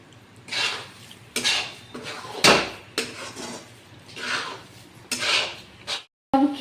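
A spoon scrapes and clinks against a pan while sabudana khichdi is stirred and roasted over low gas, in irregular close bursts of metallic scraping with short pauses between strokes.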